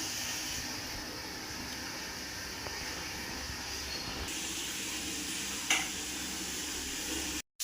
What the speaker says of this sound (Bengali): নুন হলুদ মাখিয়ে আমি ভাজা হতে বসিয়ে দিয়েছি